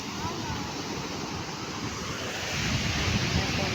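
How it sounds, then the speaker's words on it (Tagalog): Ocean waves break on a beach at sunset, a steady broadband wash of surf with rushing wind noise on the microphone, swelling louder toward the end. "Panonoodin namin alon."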